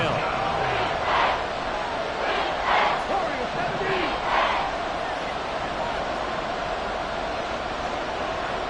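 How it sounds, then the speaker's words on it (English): A football stadium crowd cheering as a big third down approaches, a broad steady roar with a few swelling surges over the first five seconds, then a level wash of crowd noise to the end. "The crowd getting into it as we come up on a big 3rd down."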